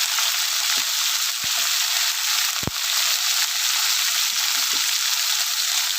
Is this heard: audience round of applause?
no